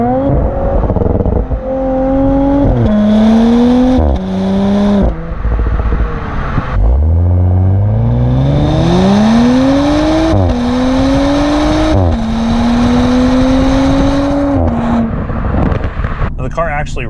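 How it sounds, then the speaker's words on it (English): Audi S5 Sportback in dynamic mode revs hard through several gear changes, exhaust note climbing and dropping in loud, close pulls heard from outside the car, with a brief lull before a long sweeping acceleration. "The S5 Sportback also has fantastic exhaust notes, particularly when you have the engine and exhaust set up in dynamic mode."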